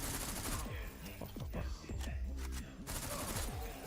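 Rapid gunfire bursts from a railgun in the shooter game SlavicPunk: Oldtimer, loud and dense over game music and effects, with a brief lull before the firing resumes.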